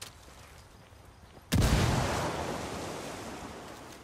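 A frag grenade detonates in the tactical shooter Ghost Recon: a quiet ambient stretch, then a sudden loud, close blast with a deep booming onset that rolls off into a long, noisy rumbling decay.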